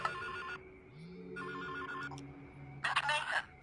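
A phone rings in the Silent Hill: Shattered Memories video game, two repeated warbling electronic ring bursts followed by a louder burst, over a low game ambience with a brief tonal swoop.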